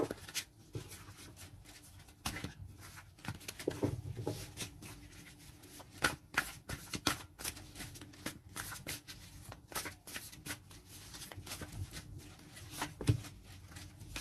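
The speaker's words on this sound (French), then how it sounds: "Carte de l'empereur" Tarot cards are shuffled by hand close by, a soft continuous riffle of paper with small slaps and rubs, faint and without speech.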